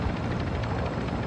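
A helicopter in Call of Duty Modern Warfare II DMZ, its heavy rotor drone rumbling loud and steady throughout, close and unbroken, with no talking.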